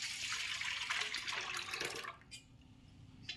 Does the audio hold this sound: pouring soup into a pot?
yes